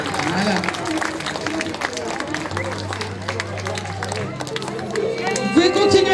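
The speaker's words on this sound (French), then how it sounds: "Vous pouvez continuer à applaudir" Applause from an audience at a costume podium show in Chanaz, a dense, steady wash of clapping and crowd noise lasting throughout, with a presenter's voice and background music mixed in.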